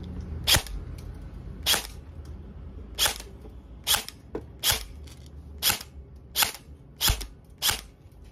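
An SRC Beta Sportline AEG airsoft rifle fires about nine sharp, separate shots at uneven intervals, loud and close against a quiet background.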